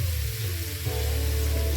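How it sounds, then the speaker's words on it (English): Steady crackling sizzle of opo squash stir fry with cashews and almonds frying in a hot pan, close and continuous, with a low hum underneath. "I can hear it sparking and sizzling."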